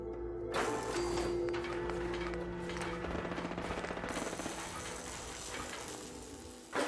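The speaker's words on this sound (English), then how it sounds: "someone is shooting" Rapid automatic gunfire in Fallout 4 rattles loud and close in a dense continuous burst, then tapers into clicking mechanical ticks before a final sharp thump.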